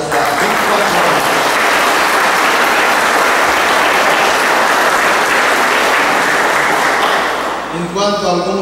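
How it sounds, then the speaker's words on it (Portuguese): An audience applauds a couple celebrating their 24th wedding anniversary: steady, loud, dense clapping sustained for several seconds, fading near the end as a voice begins speaking. "Uma salva de palmas por este casal."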